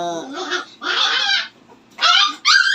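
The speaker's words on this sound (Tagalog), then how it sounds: "nag-aaway ang mga aso ko dito" Pet dogs at home fighting, with several loud, close bursts of snarling, yelping and barking separated by short pauses, and no talk over them.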